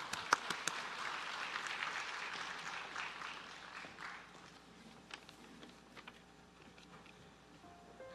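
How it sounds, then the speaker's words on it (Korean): Applause in a church congregation as a deacon is introduced, a broad wash of clapping that swells early and gradually thins, with sharp individual claps standing out and no talking. "박수로."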